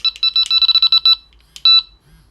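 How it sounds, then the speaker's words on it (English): A Delkim bite alarm radio receiver sounds a rapid run of electronic pips and tones, then a further short burst, loud and close, alone without talking. "So now that's buzzing 3 times."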